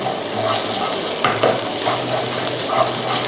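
A metal spatula stirs and scrapes Thai curry paste frying in a wok or pan for spicy crispy catfish, giving a steady close sizzle broken by soft scraping strokes. No one speaks.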